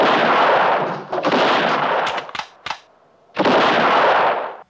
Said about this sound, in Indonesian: Jackson melontarkan 3 peluru ke arah Nathaniel dan berlalu